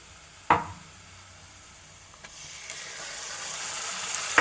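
Spices go into a pan of fried onions for a mutton kosha curry, with a sharp clatter at the start and then a soft sizzle that grows steadily louder and hissier.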